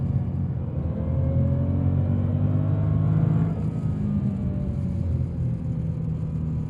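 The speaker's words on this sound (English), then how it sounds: "Wow, it keeps revving, it keeps revving." Steady engine drone and rumble of a 2011 BMW M3 E92 Competition heard from inside the car, holding a sustained, fairly loud tone that rises slightly in pitch and then eases, with no talk.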